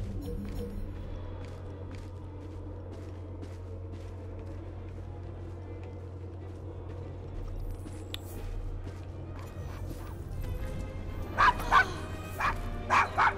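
A dog barks and yips in Victorian London in Assassin's Creed Syndicate, with scattered barks over a low game ambience and footsteps, growing louder and more frequent toward the end.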